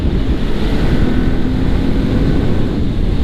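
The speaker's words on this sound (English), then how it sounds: "sure I'm getting a lot of wind" Loud, steady wind roar buffets the microphone while riding a Kawasaki Ninja 400 motorcycle in fifth gear at low RPM, a constant broadband rush with no talk.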